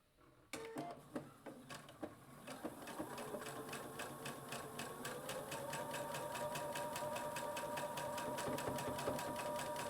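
A sewing machine runs steadily while quilting, starting with a few separate stitches before settling into a fast, continuous mechanical whir with rapid needle ticks throughout, close and fairly loud with no talk.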